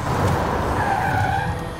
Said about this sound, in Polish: Samochód elektryczny na drift. W tym wypadku był to Taycan.